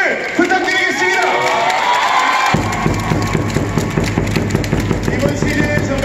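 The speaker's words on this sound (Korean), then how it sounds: "정말 멋진 플레이 보여준 우리 선수들에게 다시 한번 박수를 부탁드리겠습니다" A crowd in Uijeongbu Gymnasium cheers for the players after a set-deciding match. Shouts and cheering come first, then turn into loud rhythmic clapping, with amplified music or rhythmic noise underneath.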